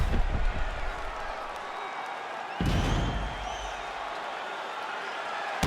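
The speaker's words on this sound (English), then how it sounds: "So the crowd voicing its appreciation after that round." A crowd at a UFC 5 video game fight applauds and cheers after a round in which a knockdown punch landed, a steady broad roar of clapping that swells briefly midway, with a commentator's voice mixed in.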